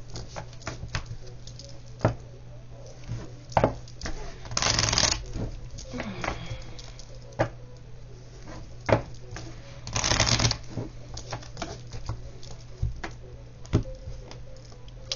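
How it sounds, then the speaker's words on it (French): Tarot cards being shuffled, two short riffling bursts separated by scattered soft taps and clicks, close and moderately quiet over a low steady hum. "j'irai faire le tirage en cœur du contrat juste après."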